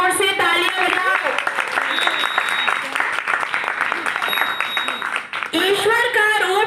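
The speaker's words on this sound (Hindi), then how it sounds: "सभी जोर से तालियां बजाओ।" Loud, sustained clapping from an audience welcoming the chief guest at a seven-day camp event, with a voice speaking over it near the start and end.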